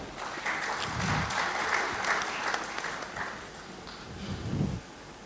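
Audience applause at a banquet greeting a journalist as he is introduced, a rolling, fairly close burst of clapping that swells and eases before trailing off near the end.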